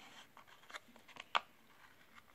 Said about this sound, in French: Je vais couper tout ce qui dépasse.